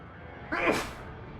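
A single sneeze bursts out at moderate volume over a faint room hum, brief and sharp, with quiet room tone on either side.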